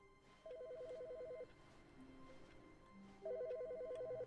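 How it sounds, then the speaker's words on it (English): A telephone rings inside a video game, two bursts of a warbling electronic ring separated by a pause, moderately loud over a low ambient game background with no talk. "which phone is it that's ringing?"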